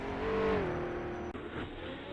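Gordini T24S race car engine from 1953 sportscar racing at Monza in rFactor 2, a steady loud drone with a rising harmonic tone that levels off, then a brief dip and a shift to a rougher, lower note.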